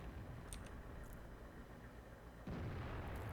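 Tank cannon fire in World of Tanks, an M56 Scorpion engaging a Type 59, with a heavy low rumble throughout and a sudden loud boom near the end, mostly alone with no talk.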